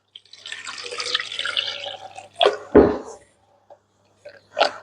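Water poured and swirled while rinsing homemade butter in a jug, short splashing and dripping bursts with a brief gurgling pour, fairly close and separated by quiet gaps.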